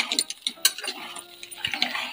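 A spoon scrapes and clinks in a pan while stirring rice and bottle gourd together, light irregular taps and scrapes up close over a couple of seconds.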